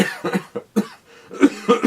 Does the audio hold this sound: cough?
yes